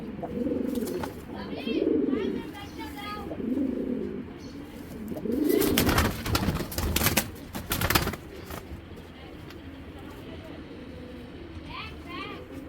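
Pigeons coo nearby while people talk, followed by a burst of flapping wings.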